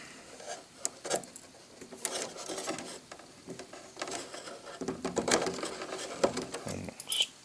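Small electric precision screwdriver driving screws into a Kadet LT-40 model airplane elevator servo pushrod fitting, heard as several short whirring bursts with faint clicks and handling noise, fairly quiet and close, with no talk.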